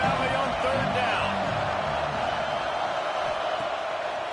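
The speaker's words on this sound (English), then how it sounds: "Here comes the noise from this big crowd in Happy Valley on third down." A big stadium crowd in Happy Valley roars on third down in a college football video game, a dense, steady wash of cheering noise that stays loud throughout, with no clear talking on top.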